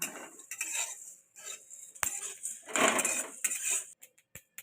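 Spoon scraping and clinking against a wok while Bihari chicken spice mix dry roasts, in irregular bursts of metallic scrapes with short pauses, close and fairly loud.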